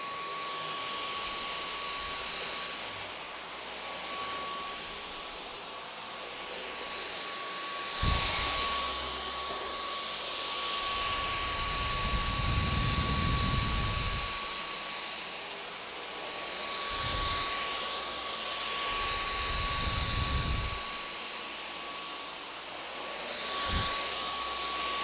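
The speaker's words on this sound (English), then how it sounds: "now we have the longest Dyson stick vac in the world" A Dyson V10 cordless stick vacuum fitted with an extra-long extended wand runs continuously with a steady high-pitched whine and airflow roar, the pitch swelling and dipping as it moves, with occasional bumps and knocks.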